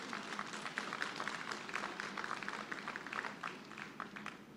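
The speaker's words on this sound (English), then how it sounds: "You can give them a round of applause." A crowd at a university Founder's Day convocation applauds in a steady, distant wash of many hands clapping, held at an even level throughout.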